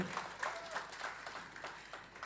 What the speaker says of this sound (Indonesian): Boleh kasih tepuk tangan lagi.